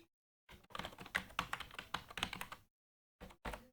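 Fingers type on a computer keyboard to enter a database record: a quick run of close, crisp key clicks lasting about two seconds, then a pause and two final separate keystrokes.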